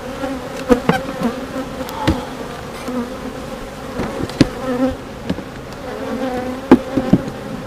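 Honeybees buzz loudly around an opened hive box with frames of drawn wax and stored nectar, a dense close drone broken by sharp bursts as individual bees pass near.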